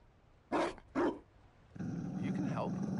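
Dog growls and barks in Dragon Age: Inquisition, Trespasser expansion: two short loud bursts early, then a sustained rumbling growl under a busy game sound bed, with a voice speaking alongside.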